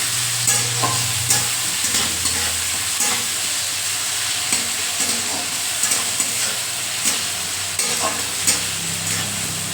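Whole dried red chillies and spices sizzle and crackle steadily in a hot pan, with occasional sharp clicks of stirring and no talking.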